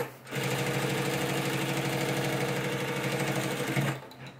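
Sewing machine running steadily for about four seconds, stitching a double seam on a bag for salon items, a fast even whir that starts and stops cleanly with no talk.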